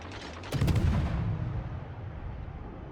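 Warship main guns firing in the World of Warships naval combat game, a loud heavy boom that hits half a second in and rolls into a long rumbling decay over steady background battle noise.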